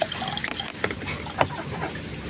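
Water is poured for chickens, trickling and dripping into a container with a few brief splashes, close and fairly quiet amid light background noise.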